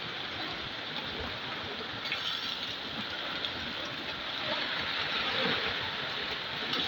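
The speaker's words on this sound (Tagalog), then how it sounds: "Lakas ang ulan dito guys, ang lamig." Dense, constant roar of heavy rain pouring down, a broad steady wash of noise with no breaks.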